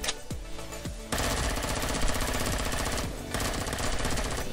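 Rapid sustained automatic gunfire rattles against enemy turrets in the space survival game Empyrion: Galactic Survival, with a few separate shots first and then a loud continuous stream of fire that briefly pauses before resuming.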